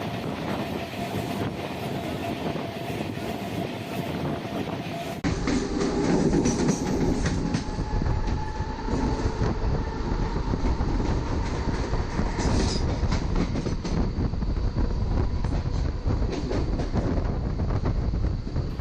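A passenger train runs on the rails between Zamania and Mughalsarai, a loud, steady rolling rumble with rhythmic clickety-clack of wheels over joints and faint squeals, heard from on board, getting louder after a few seconds, with no talk.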